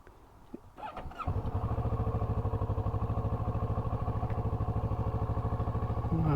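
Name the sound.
Kawasaki Ninja 650 motorcycle engine starting up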